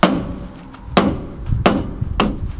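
A hammer strikes part of a farm tractor four times in a slow, uneven rhythm, each hit a sharp metallic knock close by with quiet rustling in between.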